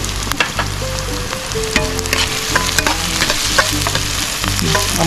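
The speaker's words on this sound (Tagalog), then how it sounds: "So mga kasolid, start na tayo maggisa. Unahin lang natin ang sibuyas. Sunod na po natin ang bawang." Onion and garlic sautéing in a pan, loud close sizzling and crackling with repeated spatula scrapes and clinks, no voices.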